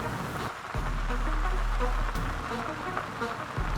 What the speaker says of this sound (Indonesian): Kok ada suara hujan sih di sini?